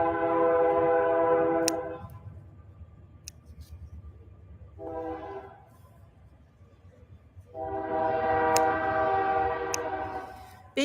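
A passing train sounds its horn in three long harmonic blasts, the first and last sustained for a few seconds and a shorter one between, over a steady low rumble of the rail cars in an outdoor garden setting.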